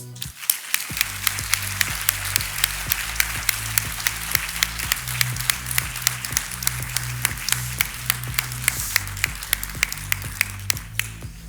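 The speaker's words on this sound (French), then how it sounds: "que l'on peut applaudir" An audience at a Master's degree ceremony in Human Resources Management applauds a graduating top student, with steady clapping over low background music throughout.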